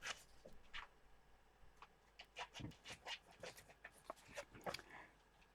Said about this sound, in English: can you hear the puppy chewing his cardboard box?